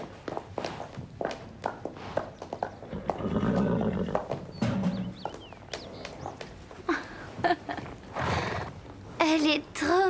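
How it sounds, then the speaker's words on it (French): A cartoon horse clip-clops in a quick run of hoof beats, then whinnies with a wavering neigh near the end. Voices and other cartoon sounds mix in around it. "il est à qui ce cheval?"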